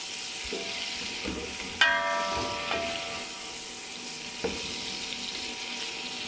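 Onions for beef pulao fry in a pan with a steady, low sizzle, broken by a few clinks of a utensil against metal and occasional stirring scrapes, close by and without any talk.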